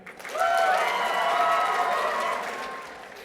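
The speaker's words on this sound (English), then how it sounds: "Start clapping." Applause with cheering and whooping surges up suddenly from the audience at a cosplay masquerade, holds strong for a few seconds, then begins to fade.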